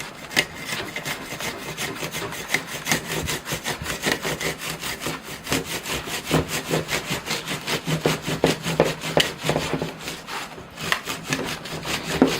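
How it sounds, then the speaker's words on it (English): A coarse hand saw cuts through thick bottom roots of a dawn redwood bonsai during repotting, producing steady, close, rhythmic back-and-forth rasping strokes throughout. "kind of a bit of a coarse saw, but I think it'll work. So let me try cutting off these bottom roots."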